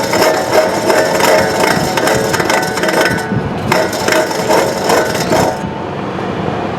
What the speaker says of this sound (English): This is the wheel hub. Look the way it sounds.